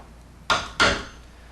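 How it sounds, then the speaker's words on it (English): Two sharp wooden knocks from a 1/4 inch chisel struck into a door edge to cut the recess for a latch, close and loud, about a third of a second apart. "this is a 1/4 inch chisel"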